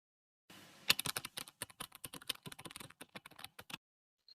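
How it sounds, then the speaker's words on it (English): Quick bursts of keystrokes on a computer keyboard, close and fairly quiet, tapping in an irregular stream for about three seconds with no speech. "Let me type it here."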